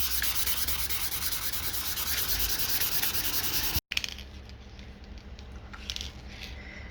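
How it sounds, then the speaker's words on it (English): Steady sanding scrapes across a car trunk being prepared for paint, a continuous close rubbing that halts briefly, then resumes with a lighter, thinner texture. "So I'm going to sand everything and paint the whole trunk."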